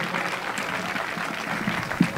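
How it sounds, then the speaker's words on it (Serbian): An audience claps at an evangelical church gathering in Pavlovac near Vranje, giving a brief patter of moderate applause with a few sharper claps near the end and no clear speech. "Majke, aplauz za Vare Praljenge, za Vare Praljenge."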